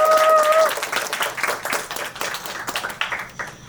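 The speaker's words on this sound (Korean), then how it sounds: "우리 박수 한번 또 칠까요?" Audience clapping at a sold-out opening-day film screening and guest talk for the Korean film 'Boy in the Pool', loud at first then thinning into scattered, uneven claps, with some voices mixed in.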